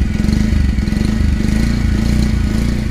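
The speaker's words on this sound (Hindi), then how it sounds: "हॉर्न मतलब कि साउंड इसके इंजन की किस तरीके से इसका एग्जॉस्ट साउंड है" A 2022 Bajaj Pulsar 125cc motorcycle engine idles and burbles with a steady, loud, throaty exhaust pulse, close by and continuous throughout.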